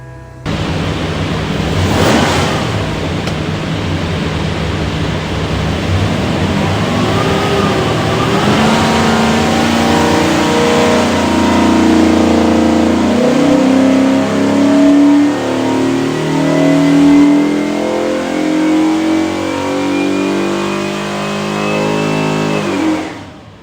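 A 1969 Mustang's Ford 347 V8 with roller cam on a dyno at Prestige Motorsports, making a full pull: loud, continuous engine roar rising steadily in pitch over about twenty seconds, then cutting off abruptly.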